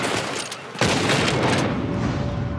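Gunfire in the video game Red Dead Redemption 2, a sharp loud shot or blast cutting in under a second after quieter crackling, followed by sustained dense booming and rattling, no talking.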